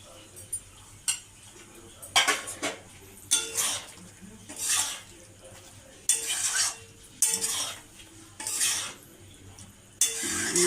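Chilli paneer is stirred in a pan after cornflour slurry goes in: bursts of metal spoon scraping and clanking against the pan come in uneven bouts with brief pauses, close and clear over a faint simmer.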